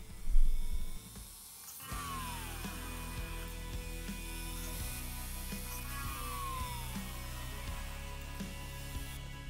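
A small 1.5mm drill bit bores into the plastic posts of a Hot Wheels Deora model car, giving a steady, close whirring drone with a faint rising and falling whine, after a brief clatter at the start.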